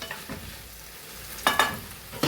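Okra frying in a pan for a Kerala-style stir-fry: a faint, low background sizzle broken by a few sharp scraping stirs of a spatula against the pan, close, no voices.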